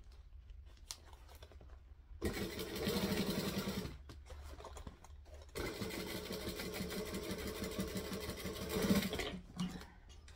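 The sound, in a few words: sewing machine stitching down piping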